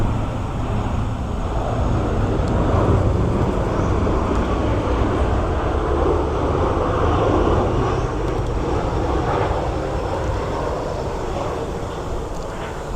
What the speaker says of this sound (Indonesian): Ntar ada pesawat lewat.